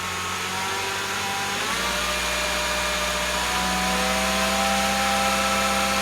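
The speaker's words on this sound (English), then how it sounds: "Get another rev, Roddy." A Peugeot VTi engine with oil pressure fault codes revs up partway through, the steady idle hum rising into a louder, higher sustained whine that holds near and even to the end.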